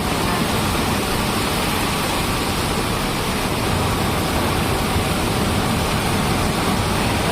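Dense, steady unseasonal rain in Mumbai roars with an even broadband hiss, unchanging and loud throughout, with no voices.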